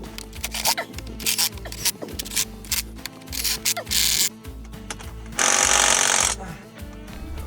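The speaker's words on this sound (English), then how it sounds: "With the nuts all roughly tightened with the gun" An impact gun tightens the wheel nuts on a Toyota Land Cruiser out on an off-road trail. It fires in several loud, close, rattling bursts separated by short pauses, ending in one longer sustained burst.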